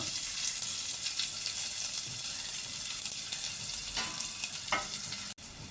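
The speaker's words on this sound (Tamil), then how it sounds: "எண்ணெய் காஞ்ச உடனே வெங்காயத்தை போட்டு வதக்கிக்கலாம்" Onions sizzle and crackle steadily in hot oil for a Chettinad lentil-ball curry, a loud continuous frying hiss with occasional stirring scrapes.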